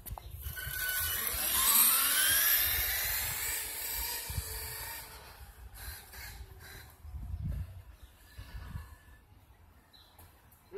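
A brushless RC car screams past at full throttle on a speed run, its high motor whine rising and sweeping as it approaches and fades away, followed by quieter ambient noise outdoors.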